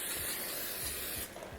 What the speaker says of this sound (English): I'm going to spray this with non-stick cooking spray